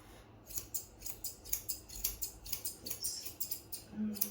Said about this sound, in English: So I take his ear out the equation and trim all that hair off.